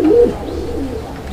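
A pigeon at a bird market coos once, close and fairly loud, a soft throaty call that fades into low background murmur with no speech.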